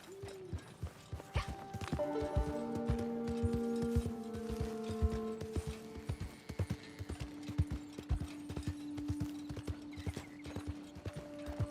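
Horse hooves clip-clopping steadily along a rough trail toward the city of Saint Denis in the video game Red Dead Online, a continuous even rhythm with a low tonal hum underneath and no talking.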